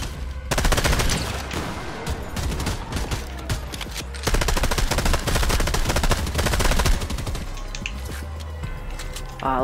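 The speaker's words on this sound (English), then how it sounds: "Let's shoot him turret. Get him turret." In Fortnite, a turret fires long, loud, rapid bursts of automatic gunfire that run almost without a break, with brief pauses between the volleys and no voices.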